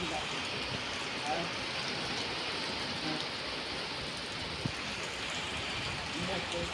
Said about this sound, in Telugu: మామూలుగా ఫుల్ వర్షం అయితే పడుతుంది ఒకసారి చూడండి